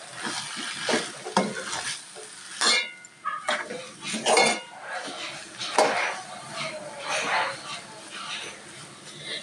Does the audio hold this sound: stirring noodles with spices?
yes